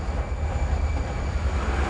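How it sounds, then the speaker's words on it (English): An underground tunnel train carrying workers and raw materials rumbles steadily, a low continuous rolling roar with a faint high whine. "The only way for me to reach it is to jump on board this underground train, used to carry workers and raw materials."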